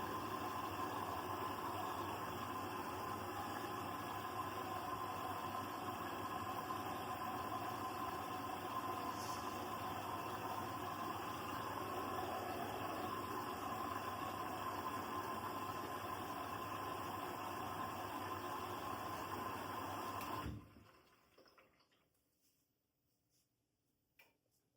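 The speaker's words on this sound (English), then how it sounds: "So first it will be filling on the pre-wash section on the machine." Hoover H-Wash 500 washing machine filling its pre-wash section with water, a steady broadband rush and hum lasting about twenty seconds before it cuts off abruptly to near silence.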